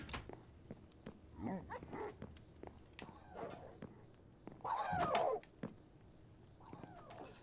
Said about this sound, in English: The dogs are hollering like I'm hitting them or something